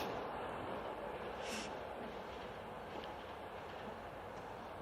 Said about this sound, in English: I'm glad for the train.